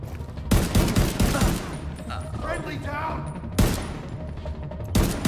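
Gunfire in Tom Clancy's The Division 2, loud dense bursts of automatic shots in several volleys, with a voice talking in the gaps between them.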